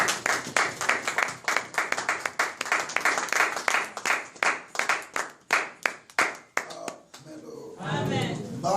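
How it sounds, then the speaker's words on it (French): A church congregation breaks into sustained, energetic applause during a Sunday service, dense overlapping claps with cheering, continuing for several seconds before fading into a softer murmur of voices at the end. "On acclame pour la parole de Dieu."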